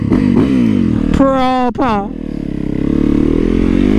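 A sport motorcycle being ridden, its engine a steady droning rumble with wind noise throughout, while a rider speaks briefly over it.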